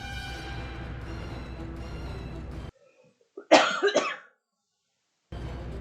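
A man with a bad cough lets out one short, close coughing fit of two or three harsh bursts. Continuous game sound plays before it, then drops to near silence, and the game sound returns afterward.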